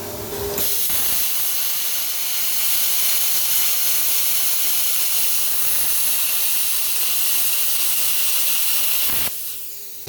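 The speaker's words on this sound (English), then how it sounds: "I ain't never seen a welder plasma cut." A cheap multi-process welder plasma cuts 3/16-inch aluminum, giving a loud, steady, close hiss and roar that starts abruptly and holds for about nine seconds before cutting off sharply.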